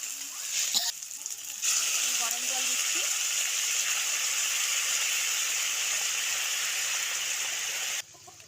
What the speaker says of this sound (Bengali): এবার আমি জল দিয়ে দিচ্ছি। গরম জল